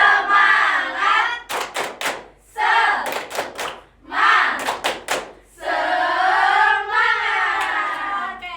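Fifth-grade elementary pupils in a classroom perform a rhythmic 'tepuk semangat' clap chant, with short bursts of sharp group claps alternating with children's voices chanting loudly in unison.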